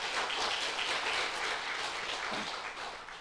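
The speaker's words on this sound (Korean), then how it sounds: "우리 박수 한번 해줄까요?" A church congregation applauds during a Sunday service, a soft but steady wash of clapping from many hands that holds evenly and fades a little at the end.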